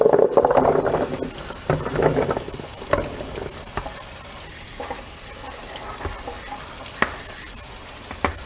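Tap water runs into a basin used for brining olives, a soft continuous splashing that fades after the first couple of seconds into scattered drips and small knocks.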